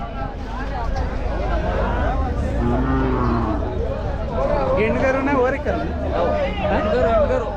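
Hallikar cattle moo in long low calls at a busy livestock market, close and repeated, under steady crowd chatter and traders talking.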